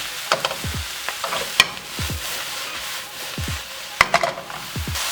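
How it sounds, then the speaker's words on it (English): Mushrooms tossed in with softened shallots sizzle gently in a pan while a utensil stirs, giving a soft frying hiss broken by scattered scrapes and clacks at an irregular pace. "once the shallots are sauteed and a bit translucent, what you want to do is just dump your mushrooms in"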